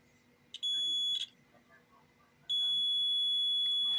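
A multimeter set to continuity mode gives two sustained electronic beeps: a short one of under a second, a pause, then a longer steady tone at the end. Both are clear and close, over faint background noise.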